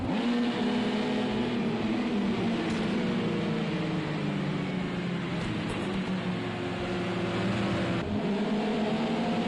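Race car engines in a PS4 racing game, a continuous layered drone of engines with shifting pitch lines as cars accelerate and change gear, steady and fairly loud with brief transient spikes.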